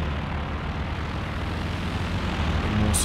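Attack planes making a strafing pass in a strategy video game, heard as a loud, continuous engine roar with a dense rumbling wash that swells slightly toward the end.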